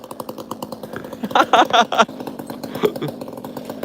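A rip chainsaw snarls in short, loud bursts between idle chugging, with people talking over the buzzing engine nearby.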